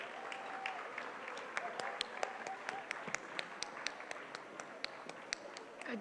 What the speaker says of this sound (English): A big round of applause for Tardeo BMC Urdu Medium School.